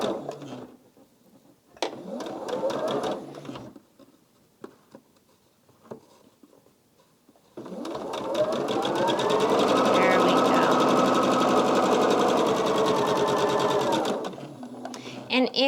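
A sewing machine stitches a beginner-friendly biscotti-block quilt made from charm packs, running in a loud steady whir for several seconds after shorter bursts of stitching separated by quiet pauses.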